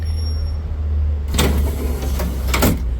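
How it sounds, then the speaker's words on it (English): Power window motor in a Chevy C10 door (1973-1991 style, one-piece glass) running the glass up and down, a few short whirring bursts over a steady low hum nearby. "window goes up and down, all the way down, all the way up"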